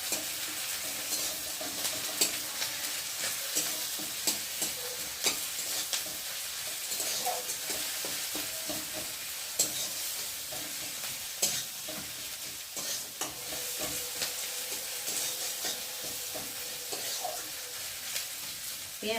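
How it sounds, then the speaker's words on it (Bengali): Spice paste with green chillies and garlic frying in a pan, a steady close sizzle with frequent clacks and scrapes of stirring throughout, and no voices. "আর দেবো কটা কাঁচা লঙ্কা, আর দেবো একটু রসুন দিয়ে মশলাটা ভালো করে ভেজে নেব"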